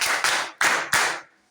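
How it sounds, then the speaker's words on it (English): Students in a British school classroom give a short round of clapping, three quick bursts of applause close by that fade out after about a second. "clap for yourself"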